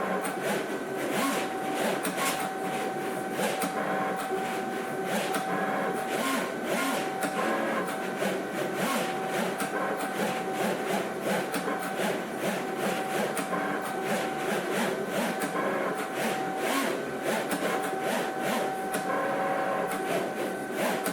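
A Cricut Venture or Maker cutting machine runs steadily in a school setting, a continuous mechanical whir with a faint tonal hum and rapid rhythmic clicking, fairly close and unbroken, with no talking.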